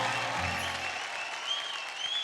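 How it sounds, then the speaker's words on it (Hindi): Loud, sustained audience applause fills the hall after a dance act on a televised Indian dance competition stage, dense clapping continuing steadily throughout without any talk. "I wish you all the best and जोरदार तालियां हो जाए"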